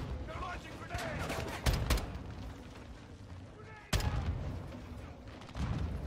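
Explosive blasts and bursts of gunfire from grenades being launched at a tree line in the Call of Duty Modern Warfare 2 campaign, with two sharp loud impacts standing out over a steady battle din and excited voices.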